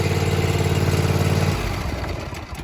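A John Deere Z335E zero-turn mower runs with a steady throbbing engine drone, close and loud, then the pitch shifts and the note loosens as the running changes, with no voices.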